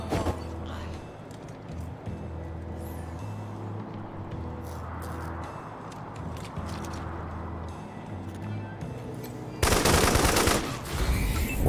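Gunfire in the video game Wasteland 3, with repeated shots and bursts over a steady low hum, ending in a loud, dense burst of fire.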